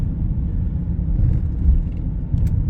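A car crawls through slow traffic with a steady low rumble from the road and engine. A few faint higher sounds come through near the end.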